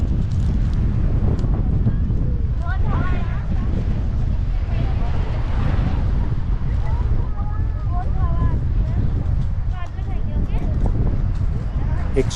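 Strong wind roars steadily across a pebble beach in Oman, a constant heavy rumble buffeting close to the microphone, with faint higher whistles and chatter-like tones drifting through it.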